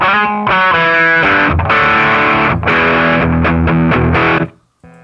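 An electric guitar runs through a ProCo Brat distortion pedal set with distortion at three o'clock, tone at noon and volume at three, playing thick, sustained distorted chords and riffs before cutting off abruptly near the end.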